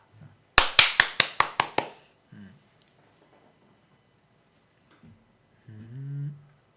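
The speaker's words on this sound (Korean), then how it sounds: "우리 고참님들께 특히 만경님한테 박수 한번 드리도록 하겠습니다" A short burst of about seven sharp hand claps at an investment lecture, close and distinct, followed by scattered brief speech sounds.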